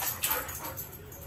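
A puppy whining for attention, a short faint high-pitched whimper with a sharp yip near the start, heard close and alone.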